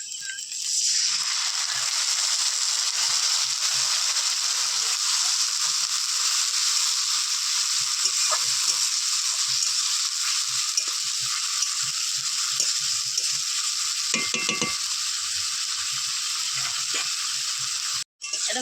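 Ground spice paste and onions fry together in a pan, giving a loud, unbroken hissing sizzle with scattered small clicks of stirring and a brief cut-out near the end.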